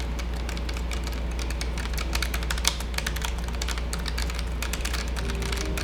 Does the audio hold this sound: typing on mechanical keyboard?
yes